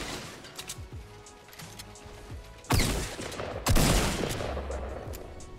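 Gunfire in Fortnite: Battle Royale, a loud burst of shots near 2.7 s and another around 3.7 s, with fainter game sounds and scattered hits before, and no talk.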